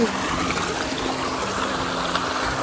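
Water flowing in the stream fed by Batlag Falls, a close steady rushing and trickling wash with no pauses.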